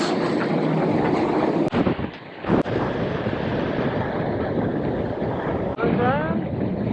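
Wind buffets the microphone on a racing sailboat in a yacht race, a loud continuous roar with brief dips and water rushing beneath, while a person talks.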